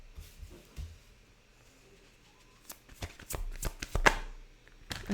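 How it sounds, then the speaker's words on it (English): Tarot cards riffled and shuffled close by, then pulled from the deck, with a run of crisp slapping and flicking bursts that grows busier and louder toward the end. "let me carry on pulling the cards out for you"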